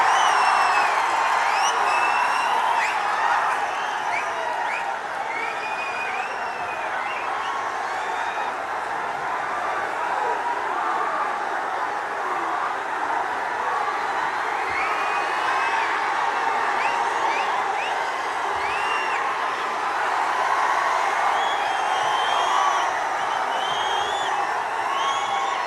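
Large crowd at a BRS political rally for KCR cheering, whooping and clapping in a steady, loud, continuous roar with scattered shouts, lasting throughout without pause.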